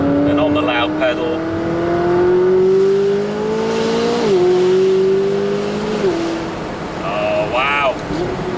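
A McLaren 570S Spider engine revs up steadily through the gears, loud and close, with a rising whine and brief shifts in pitch.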